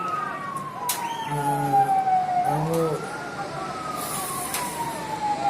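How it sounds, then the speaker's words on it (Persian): Fire engine sirens wail as the trucks arrive at a burning restaurant in Yakkasaroy, Dushanbe, one rising and falling tone sweeping steadily over a constant wash of street and traffic noise, with a brief voice underneath. "ماشین های آتش خاموش کننده رسیده آمدن"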